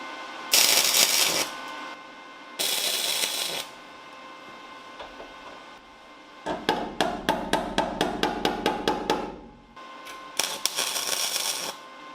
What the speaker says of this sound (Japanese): これで溶接していきます。